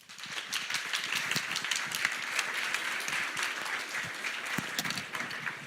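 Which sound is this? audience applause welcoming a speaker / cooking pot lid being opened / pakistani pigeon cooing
audience applause welcoming a speaker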